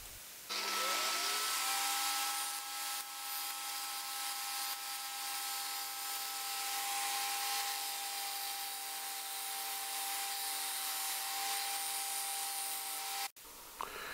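A steady, high-pitched whine of a power drill boring into wood, running continuously for over ten seconds, then cutting off abruptly near the end.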